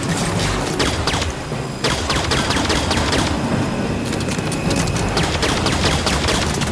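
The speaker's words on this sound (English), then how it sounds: "A couple fuel rod shots work really well right now." Dense, continuous rapid weapon fire and crackling blasts in Halo 5: Guardians, loud and sustained with no pause, largely free of talk.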